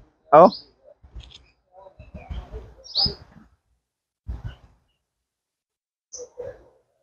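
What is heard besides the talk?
birds chirping at midday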